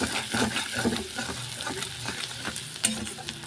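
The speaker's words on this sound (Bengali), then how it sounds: "আমি কিন্তু এখানটা এর পেঁয়াজ আর একটু রসুন ফোড়ন দিয়েছি, এটাকে একটু লাল লাল করে ভাজবো" Onion and garlic fry in a pan as a spatula stirs them, making a continuous sizzle broken by repeated scraping strokes and a sharp clack near the end.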